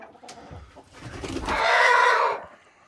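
Hens in a farmyard coop, just beginning to lay, cluck and squawk nearby, with one louder burst of agitated calling rising in the middle before settling down.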